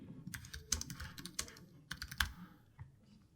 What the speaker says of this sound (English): we'll type some instructions using all of the images shown